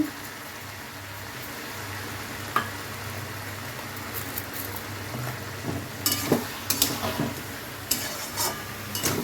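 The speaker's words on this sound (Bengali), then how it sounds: "মশলাটা ভালো করে কষে নিয়েছি" Spice paste with sugar sizzles in a pan over fried vegetables for a jackfruit seed dal, with a steady frying hiss broken by scattered scraping and stirring clinks, a few sharper ones near the end, and no talking.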